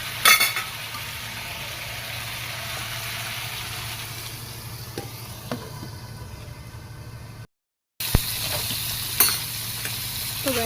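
A potato curry with broth simmers and fries in a pan for a Bengali potato, bean and fish dish, a low steady sizzle with occasional utensil clinks and stirring, briefly cutting out before resuming.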